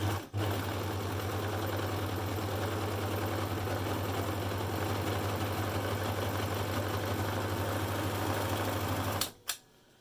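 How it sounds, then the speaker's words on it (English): An overlocker runs a continuous curved seam on two layers of lining fabric while sewing a face mask. It keeps up a steady, close mechanical whir for about nine seconds, then stops abruptly with a couple of clicks. "we'll go over to the overlocker"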